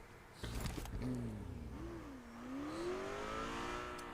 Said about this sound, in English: start hearing those cars passing by him